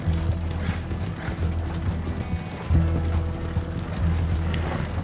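Horse hooves gallop in rapid rhythmic clip-clop in the open world of Red Dead Redemption 2, steady and fairly loud, mixed with low rumbling game sound and brief mechanical rattling.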